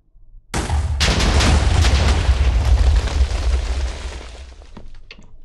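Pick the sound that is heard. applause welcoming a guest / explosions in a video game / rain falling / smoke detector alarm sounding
explosions in a video game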